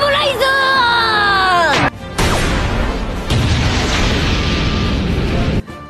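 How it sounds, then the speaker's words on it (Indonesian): A smoke bomb bursts in a One Piece anime scene, a loud rushing blast of noise that follows a rising whistle-like tone and fills the air for several seconds. "Chopper Nebulizer ditembakkan, terciptalah ledakan bom asap yang sangat banyak."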